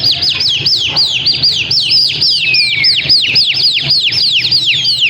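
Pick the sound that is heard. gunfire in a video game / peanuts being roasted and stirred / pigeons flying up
pigeons flying up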